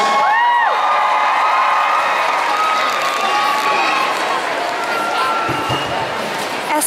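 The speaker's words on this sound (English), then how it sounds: "So give them a big round of applause when they come out." A studio audience at The X Factor Live Final cheers and applauds in a loud, sustained roar with whoops and shouts, and voices talk over the crowd.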